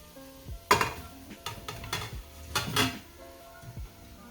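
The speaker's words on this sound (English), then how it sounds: "And then you're just going to stir it all around." Pork and ribs for sinigang are stirred in a metal pot, with irregular scraping clanks and knocks of the utensil against the pot, several sharp hits spaced unevenly, close and moderately loud over a faint background.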